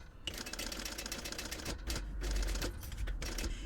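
A sewing machine stitches a zipper into a small purse using a zipper foot, its motor whirring steadily in close, rapid bursts with brief pauses between runs.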